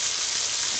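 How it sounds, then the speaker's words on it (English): Ponzu sauce hitting a hot pan sends up a loud, steady, hissing sizzle that holds unbroken at close range, with no voices over it. "I'm gonna add some of the ponzu sauce. Woo! Hear that sizzle?"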